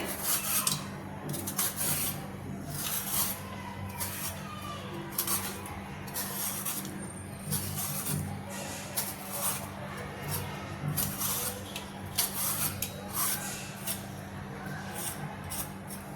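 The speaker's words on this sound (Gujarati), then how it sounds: "એ દૂધીની આપણે છાલ કાઢી લઈશું આવી રીતે દૂધીની છાલ કાઢી લેવાની છે" A peeler scrapes the skin off a medium-sized bottle gourd in repeated short rasping strokes, close and fairly soft, with brief pauses between strokes over a low steady hum.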